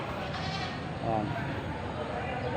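Bleating from a group of large-horned goats at a livestock market, with sheep-like cries rising over a noisy crowd, plus people talking nearby throughout.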